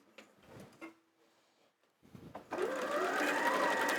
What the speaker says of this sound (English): It's quite weird sewing standing up.